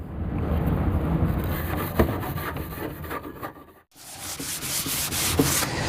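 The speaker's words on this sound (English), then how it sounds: "I'm just going to sand it real good." A painted wooden table being sanded by hand with a steady, close back-and-forth rubbing rasp, briefly pausing mid-way before resuming; no speech.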